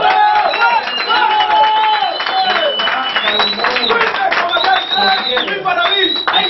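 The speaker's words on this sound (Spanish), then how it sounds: "Un fuerte aplauso." A crowd at a political rally in Maimón, Puerto Plata, breaks into loud, sustained clapping mixed with cheers and shouts, steady throughout, with voices talking among the noise.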